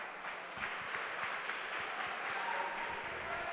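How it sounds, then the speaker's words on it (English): Crowd at a varsity boys wrestling dual meet between Randolph and Roxbury cheers and applauds steadily, a dense wash of clapping with scattered shouts filling the gym at moderate distance. "Listen to this crowd getting pumped up for their boys."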